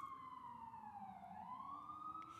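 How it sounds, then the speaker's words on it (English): A siren wails steadily, its pitch sliding down and then rising again, heard at a distance and fairly faint. "That's the siren that you're hearing right now."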